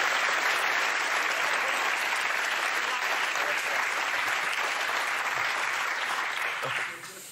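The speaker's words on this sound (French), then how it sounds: "On peut l'applaudir. Bravo." A TV studio audience applauds in sustained, dense clapping that holds steady for several seconds and then tapers off at the end.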